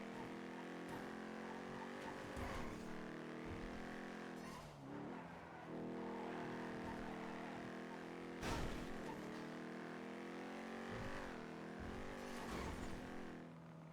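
Steady engine drone of cars in traffic inside the game NoPixel, a Grand Theft Auto V roleplay server, with a few passing whooshes and rev swells, continuous and fairly close.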